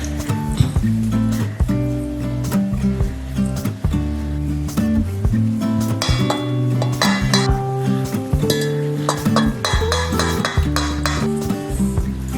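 A spoon stirs banana bread batter in a bowl, clinking and scraping against the sides with frequent clatters of utensils and dishes in a busy kitchen, with no talking.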